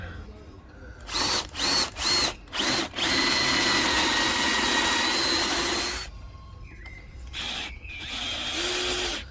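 A DeWalt cordless power drill whirs in several short bursts, then runs steadily for a few seconds before stopping; another burst follows, close and loud.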